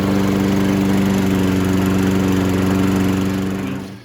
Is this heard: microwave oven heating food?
no